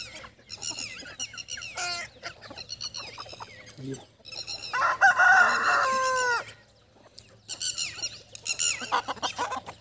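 Desi roosters and chickens on a small home poultry farm, crowing and clucking in overlapping bursts, with one long, loud crow standing out near the middle while someone talks between the calls.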